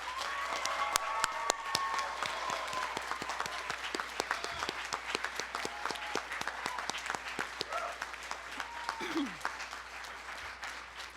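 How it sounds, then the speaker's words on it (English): Sustained applause from a graduation ceremony audience in a large hall, a dense steady patter of many hands clapping throughout, with faint voices mixed in. "Please, can I have some grateful applause?"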